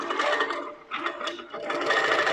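A Pro-Stitcher Lite computerized quilting machine stitches out a pattern, giving a steady, fairly loud mechanical whir that rises and dips across a couple of seconds with no talk over it.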